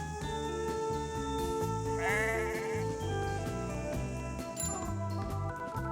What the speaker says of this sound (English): before we even leave Auckland, these are the sheep